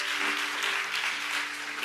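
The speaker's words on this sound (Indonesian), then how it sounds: "Yang percaya kasih tepuk tangan yang paling benar" A congregation applauds during an evening Sunday church service, with steady, dense clapping that fills the space at an even level, alongside a faint sustained tone in the background.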